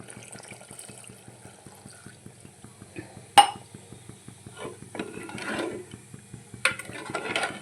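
Water poured into a cooking pot of spiced chicken curry, a soft splashing and gurgling pour that swells in the middle, over a faint regular mechanical ticking, with a sharp clank partway through.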